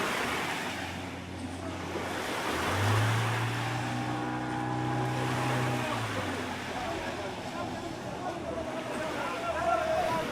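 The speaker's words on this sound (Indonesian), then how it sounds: "Ada kapal juga tuh." A boat on the lake at Entebbe, Uganda, gives a low engine hum for a few seconds amid wind and open-air background noise, with people talking nearby.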